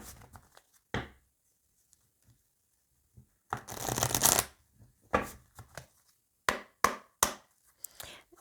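Oracle cards are shuffled by hand for a reading. Short, close bursts of papery riffling and shuffling are separated by quiet gaps, with one longer burst in the middle and no talking.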